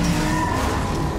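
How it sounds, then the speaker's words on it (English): A race car engine roars in the video game The Crew 2, a loud, steady snarl with a hint of tire skid, continuous across the short moment. "The roar of the engine."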